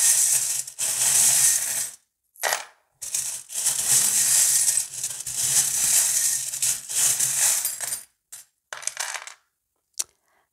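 Small divination charms tossed and rattled by hand, bursts of clinking and shuffling that stop and start with short silent gaps, close and fairly loud, a few brief clicks near the end.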